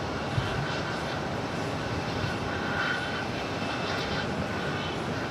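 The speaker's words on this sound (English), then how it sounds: "Got another KLM flight touching down" KLM Boeing 787-10 Dreamliner touching down at New York JFK, a distant steady jet engine rumble and broadband roar at moderate level, with faint background chatter.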